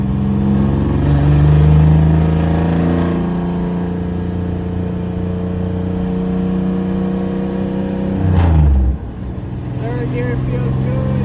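A 1999 Camaro V6 drift car with a rebuilt T5 transmission accelerates through the gears. The engine drones and climbs steadily with a loud close rise, then drops sharply at a shift before pulling again.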